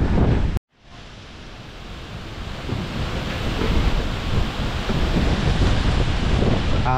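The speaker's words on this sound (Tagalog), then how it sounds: "Oo, lakas ng hangin." Strong wind roars steadily and loudly through mango trees as rain approaches, a broad continuous rush that builds after a brief cut near the start, with no talk over it.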